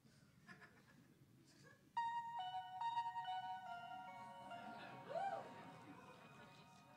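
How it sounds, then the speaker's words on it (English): Faintly in a convention hall during a panel session, a phone ringtone plays a short electronic melody of bright, stepped tones that rings for a few seconds over a low murmur of room noise. "No, another ringtone."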